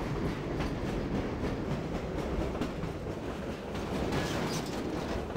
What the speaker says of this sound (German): dann fahren wir mit dem Zug, mit einem anderen Zug, einem besseren Zug diesmal weiter